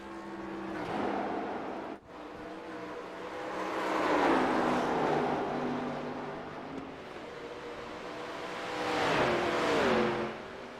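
A race car at Watkins Glen drives through turns and accelerates, its engine rising and falling in pitch through gear changes and corners. One sharp gap marks a shift, and the sound is moderately loud and continuous.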